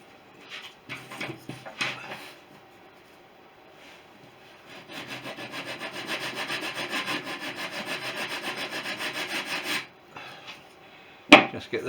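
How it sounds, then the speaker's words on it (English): A sanding block works over wooden wing rib ends on a Fisher Youngster V model aircraft, a run of rhythmic even rasping strokes close by, with scattered taps before it and a sharp knock at the end. "Just with a sanding block."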